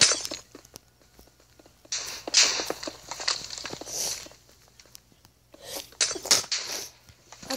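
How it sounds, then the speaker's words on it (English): A single person sneezes amid scattered clatter and brief sharp bursts, loud and close, with quieter gaps between. "I sneezed."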